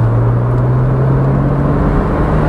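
A Porsche Boxster with 87,000 miles on the clock drones steadily while driving, its engine a constant low hum heard from inside the car with no talking.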